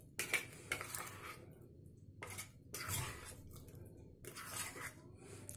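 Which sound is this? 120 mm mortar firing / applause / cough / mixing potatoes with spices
mixing potatoes with spices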